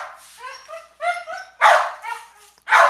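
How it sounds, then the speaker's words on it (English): Several dogs bark in excited bursts, with a couple of sharper, louder volleys near the mic and some whimpery yips in between, alone without speech. "my dogs are freaking out"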